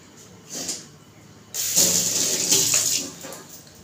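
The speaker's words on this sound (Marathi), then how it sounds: "मिठाचा हात धुते" A tap turns on and water runs into a sink with splashing as hands are rinsed under it, close and fairly loud after a brief quiet start.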